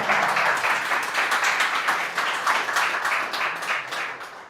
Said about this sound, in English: I want a round of applause for this one.